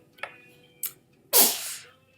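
Two short breathy catches, then one loud, forceful sneeze that trails off in a hiss; close by and alone.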